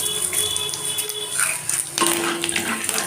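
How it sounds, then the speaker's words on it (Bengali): Five-spice tempering sizzles in hot mustard oil in a wok, a crackling hiss with sharp spitting bursts and a sudden louder flare partway through, no talk. "কড়াইতে সর্ষে তেল দিয়ে দিয়েছি আর এখন এতে দিয়ে দেবো 5 ফোড়ন"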